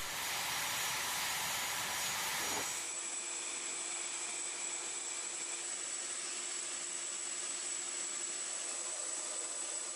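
An A-10 attack jet at Kandahar, Afghanistan, a loud broad roar that cuts abruptly into a steady high engine whine with faint hiss, continuous throughout.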